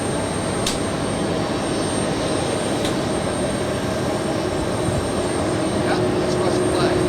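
A Russian Ilyushin Il-96 airliner taxis off the runway after landing, with a steady, loud jet-engine roar and a constant high whine throughout.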